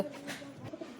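A pigeon coos softly once or twice, close by, over a quiet background.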